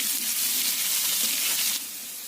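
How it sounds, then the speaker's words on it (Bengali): Potatoes frying in hot oil, giving a loud, dense, continuous sizzle close by that eases slightly near the end. "আলুগুলো খুব ভালো করে লাল লাল করে ভেজে নেব"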